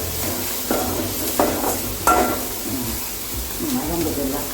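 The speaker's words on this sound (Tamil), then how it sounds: "வெங்காயம் மிளகா பெருங்காயம் போட்டு வதக்கணும்." Onion, chili and asafoetida sautéing in oil, a soft steady sizzle with a few clanks and scrapes of a stirring spoon against the pan, heard close under a person talking.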